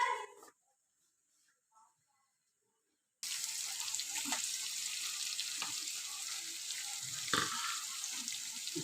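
Chopped onions sizzle in hot oil in a home kitchen pan, a steady loud frying hiss that starts abruptly after a near-silent pause and continues with faint crackles and stirring scrapes.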